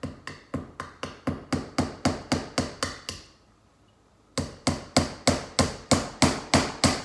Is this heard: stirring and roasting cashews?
no